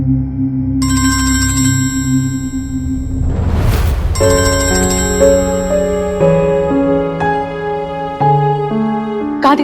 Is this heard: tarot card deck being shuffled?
no